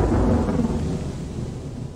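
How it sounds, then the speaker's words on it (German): A loud, close rumble of thunder in the game Gothic 2 rolls and slowly fades over two seconds, deep and heavy with no other sounds. "Das Donnern ist ein bisschen laut."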